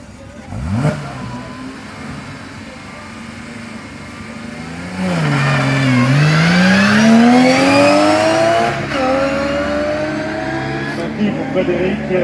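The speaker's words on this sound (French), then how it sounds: "Santarelli Porsche Cayman Cup" A Porsche Cayman Cup race car launching from the start line of the Bettant hill climb in 2018, its engine revving up through the gears with rising pitch, close and loud, then fading slightly as it pulls away.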